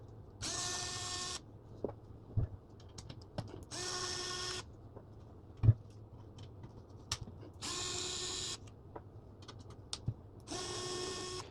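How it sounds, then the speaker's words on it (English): Electric driver with a T20 Torx bit spinning out screws on a NitroPress Pro, four separate whirring bursts with quiet pauses and small clicks and knocks in between, close and moderately loud. "So let me go ahead and remove all these screws."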